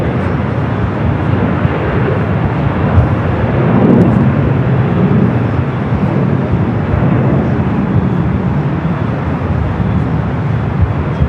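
A Boeing 787-9 Dreamliner airliner taking off at LAX gives a broad, steady roar that swells slightly midway and holds loud throughout, with no voices over it.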